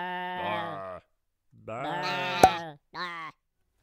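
A person mimics sheep bleating with three wavering, nasal "baa" calls, close and clear, separated by short pauses.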